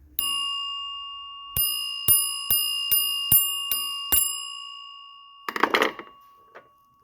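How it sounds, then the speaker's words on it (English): Bell of a 1963 payphone struck repeatedly, one clear metallic ding followed by a run of about seven quick strikes with long ringing overtones. A short clattery rattle comes near the end, and no one speaks. "Let's hear the bell"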